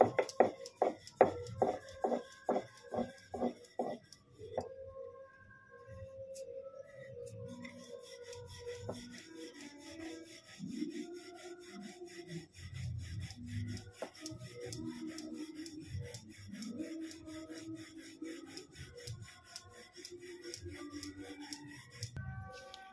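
Flour roti dough rolled thin and round with a rolling pin, a soft repeated rubbing and rasping under low background murmur, following a few sharp knocks at the start.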